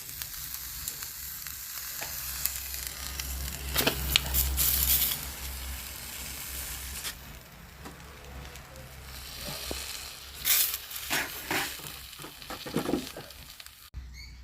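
Ottada, a rice pancake, cooks in a cheenichatti pan over a fire, giving a steady close sizzle with a few louder crackling bursts and scraping taps.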